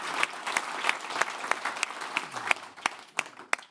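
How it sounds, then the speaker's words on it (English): A live audience claps for a chef contestant at a culinary scholarship event, a steady round of applause with sharp individual claps standing out over the crowd's patter, fairly close and continuous. "A little round of applause for Harrison."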